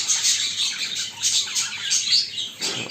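A newly paired couple of show birds beginning courtship keep up a close, steady stream of bright chirps and twittering warbles, with a few louder bursts and no voices over them.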